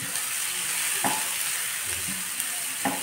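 Garlic fries in hot oil with a soft, continuous sizzle, broken by a few brief scraping stirs of a spoon against the pan.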